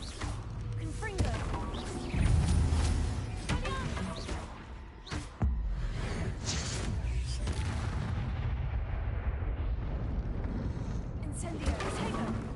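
Confringo explosive spell blasts in Hogwarts Legacy spell combat, repeated booming impacts and crashes with a sharp burst around the middle, under a player calling out spell names.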